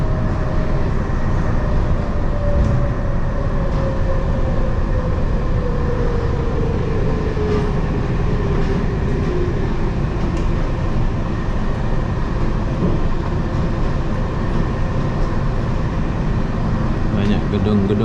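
Steady, loud rumble of a monorail train ride in Kuala Lumpur between Imbi station and KL Sentral, a continuous roar with a slowly shifting whine underneath and voices talking over it.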